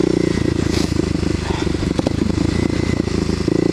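A Kawasaki KLX250SF dual-sport motorcycle ridden along a trail, its engine thrumming loudly and steadily close by with some rattling and crackle over the drone.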